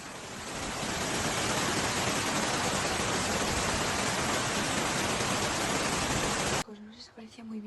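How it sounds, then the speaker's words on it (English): Heavy rain pours steadily in Tarragona, Spain, during flooding, making a loud, dense, continuous hiss that stops abruptly near the end, leaving quieter background sound. "Heavy rains falling in Tarragona have caused flooding on several city streets"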